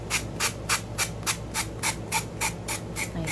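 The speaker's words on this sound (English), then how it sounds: "I hope that noise of sanding is not disturbing anybody." Hand-sanding a rustic craft piece: about a dozen rhythmic rasping strokes, evenly spaced and close, repeating steadily with no talk.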